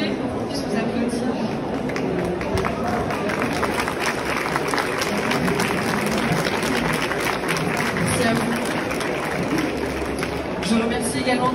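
Continuous applause fills a room as an audience claps at a Femmes de Santé health event, a steady, even wash of clapping with a murmur of voices underneath.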